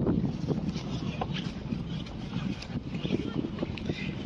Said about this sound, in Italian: deve continuare così perché è un po' sferzato dal vento tutto